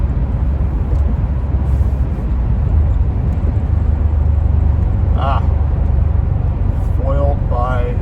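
A 1989 Maserati 430 twin-turbo with a 5-speed runs underway, its engine a steady loud low drone filling the cabin while someone talks over it near the end.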